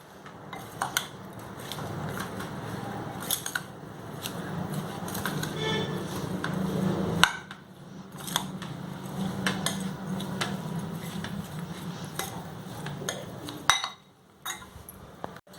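Steady scraping and clinking of a utensil mixing coleus root pickle with ground mustard, lentils, fenugreek and salt in a bowl, continuous with brief pauses, close by.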